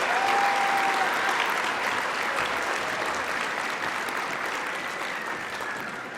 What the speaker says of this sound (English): please give a round of applause for the graduates from the Developmental Services Worker Program.